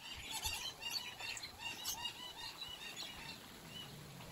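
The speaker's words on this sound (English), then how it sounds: "peacock" A peacock calls at an ecological farm with a bird sanctuary: shrill, squawking cries, fairly distant and faint, with a couple of sharper calls early on and rustling background noise throughout.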